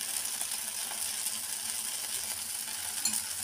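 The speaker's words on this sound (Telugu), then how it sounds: "దోశ వేగుతుంది కదా" Green moong dal sprout and oats dosa frying on a pan with a little oil, giving a steady, quiet sizzle with a faint hiss throughout and no voices.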